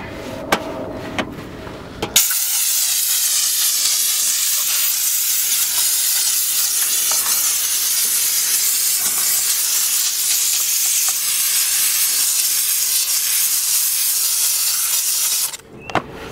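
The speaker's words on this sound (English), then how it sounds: "just a steam clean and a wipe." A steam cleaner blasts a car engine bay with a steady, loud hiss that starts after about two seconds of quieter handling, holds without a break for roughly thirteen seconds, then cuts off.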